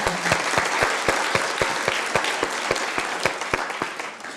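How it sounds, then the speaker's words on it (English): Audience members at a keynote speech give a round of applause, a dense sustained clatter of many hands with a few sharp, prominent claps standing out close by, fading slightly toward the end. "Let's give ourselves a round of applause."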